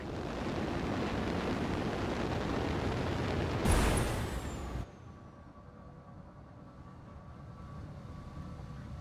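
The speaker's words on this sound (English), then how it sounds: "Firing jump jets." A mech firing its jump jets in the BattleTech video game, a loud, broad roaring rush of thrust that swells to a hissing burst and then cuts off abruptly, leaving a quiet low hum.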